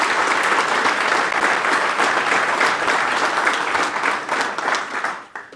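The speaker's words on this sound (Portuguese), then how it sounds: "Peço uma salva de palmas também para a nossa secretária." Audience applause at a Chega political party meeting in Beja, a dense, loud, sustained clapping from a large crowd that continues evenly and fades out at the end.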